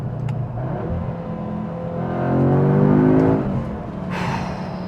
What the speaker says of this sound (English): Throw it back into first gear, on the gas, boost.